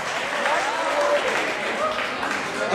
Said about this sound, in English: Also, a huge round of applause to Mr. Big that agreed to judge and support us.